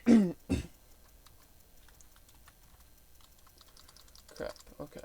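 Typing on a computer keyboard during web development, heard as sparse, faint clicks with scattered key taps and a couple of louder bursts near the start and end, against a quiet room.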